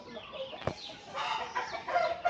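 Chickens, chicks and roosters in a coop cluck and squawk faintly in a short burst, with a sharp click near the start and soft barnyard noise.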